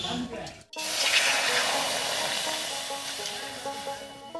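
Water poured into a hot kadai on the stove for cooking flat beans gives a steady, close hiss that starts abruptly after a brief pause and carries on to the end, with faint voices underneath.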